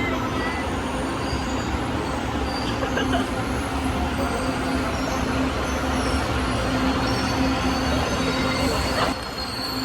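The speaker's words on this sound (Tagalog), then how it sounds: "Andito na naman kami sa LRT." An LRT light rail train rumbles steadily along with a constant roar and faint wheel squeal, passengers' voices murmuring under the noise.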